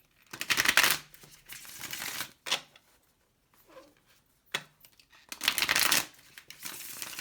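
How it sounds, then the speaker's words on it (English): Tarot cards being shuffled by hand in several separate bursts, crisp riffling flutters with short quiet gaps between them, close and clear with no talk. "Let's give it one last shuffle"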